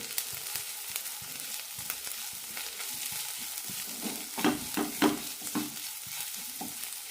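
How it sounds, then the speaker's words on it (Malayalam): Onions sautéing in a pan with chili powder, garam masala and turmeric: a continuous low sizzle with repeated scraping stirs, a cluster of louder strokes toward the end, nobody talking. "ഒരു മിനിറ്റ് നന്നായി വഴറ്റി കൊടുക്കണം"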